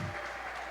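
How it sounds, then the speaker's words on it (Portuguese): A church congregation claps together in a brief, dense wash of applause that fills the room at moderate loudness. "Aplauda ao Senhor, igreja."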